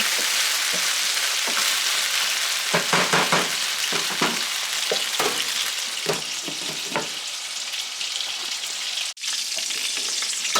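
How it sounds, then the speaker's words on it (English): Sausages sizzle steadily in a frying pan, a continuous loud crackle with scattered sharper pops and brief stirring or turning sounds, no voices over it. "Sausage is all cooking."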